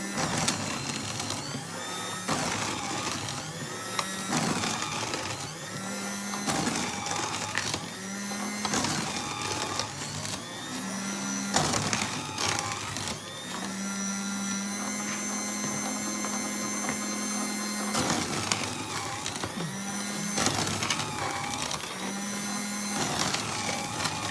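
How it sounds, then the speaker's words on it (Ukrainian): An electric bread slicer whirs in repeated bursts as it cuts through a loaf, several passes separated by short pauses. "включаю машинку, нарізаю хліб"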